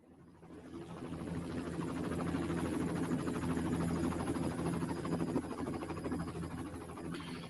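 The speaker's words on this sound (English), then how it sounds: "Great shots coming from the helicopter." TV camera helicopter flying over a stage of a professional cycling race in China, its rotor droning steadily at moderate distance, swelling slightly and then easing, with no talk.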